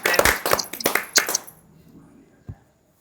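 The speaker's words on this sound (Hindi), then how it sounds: "मैं चाहता हूं एक बार जोर से तालियां बजाओ और हालेलुया का नारा लगाओ।" Claps ringing out during an online prayer meeting, a burst of loud, uneven hand claps from a few people for about a second and a half, then a lone faint knock before silence.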